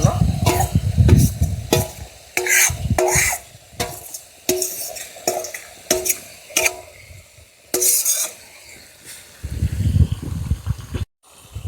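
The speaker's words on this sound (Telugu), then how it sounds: "ఇప్పుడు మనం చికెన్ వేసుకోవాలి దీంట్లో." Country chicken being stirred and fried in a pan with fenugreek leaves, village style, giving steady sizzling under repeated sharp scrapes and clanks of a spatula against the metal pan, close and fairly loud.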